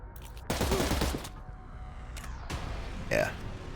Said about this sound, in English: I go full auto